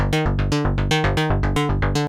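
Serum synth oscillator set to the FM B option with its knob near one third, giving a harsh 80s industrial tone: a rapid, evenly pulsing harmonic-rich note repeating about six times a second, loud and alone.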